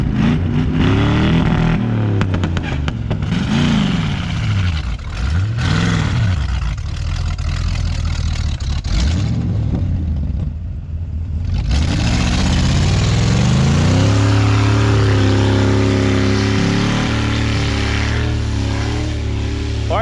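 A mud truck bogged down in snow revs its engine hard over and over, with loud rising and falling surges, a brief dip in the middle, then a long, strained, high-revving roar that holds near the microphone.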